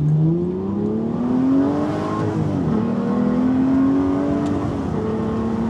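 Aston Martin V12 Vantage S engine pulling hard under throttle, a loud continuous smooth V12 tone rising steadily in pitch with a brief dip midway, heard from close by with no talk over it.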